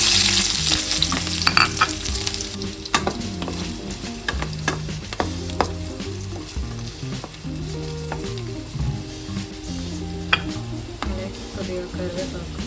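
Chopped onions sizzling in hot oil in a pan for a brinjal curry, a steady close crackle and hiss running throughout with occasional stirring scrapes and light clinks of a utensil.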